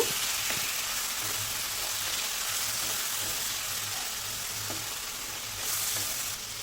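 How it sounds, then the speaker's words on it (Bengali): Ground spice masala with a splash of water and chopped green chilies sizzles steadily in a pan for an egg curry, with occasional light stirring scrapes and no voices. "এবার মশলাটাকে খুব ভালোভাবে মিশিয়ে নেব"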